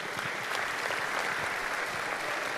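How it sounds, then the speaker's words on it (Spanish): Audience applause for a man during a Spanish-language business mindset talk, a steady dense patter of many hands clapping that fills the whole short moment without voices. "Un aplauso para el señor."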